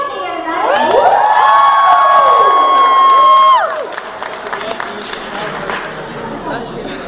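A crowd cheers and applauds at a high school reunion show for a performance, with loud whoops and shouts peaking for about three seconds before settling into lighter chatter.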